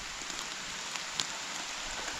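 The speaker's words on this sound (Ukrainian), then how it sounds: "Бо дощ досить такий, вже потужний починається." Heavy rain beginning to pour in a forest, a steady dense hiss of drops on leaves and ground, loud and continuous with a few sharper drips, no voices.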